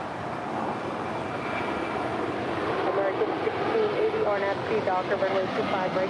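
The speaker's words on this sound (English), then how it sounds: "That is United Airlines Flight 355 coming in from Austin, Texas in an A320" A 21-year-old United Airlines Airbus A320 arriving from Austin lands at Los Angeles International, its engines a steady, moderately distant roar that swells slightly toward the end, with a voice speaking over it.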